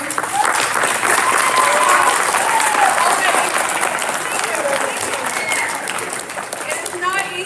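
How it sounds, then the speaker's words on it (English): Audience at a high school Poetry Out Loud competition cheers and applauds the contestants, a dense, loud wash of clapping with voices and whoops mixed in, sustained throughout and easing slightly toward the end. "I just want you guys to cheer for everyone."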